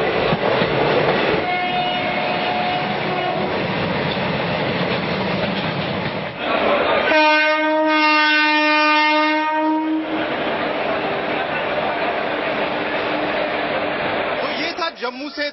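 A passenger train on the Jammu to Delhi route rumbles steadily along the tracks, loud and close, with a long blaring horn midway and talking heard over the running noise.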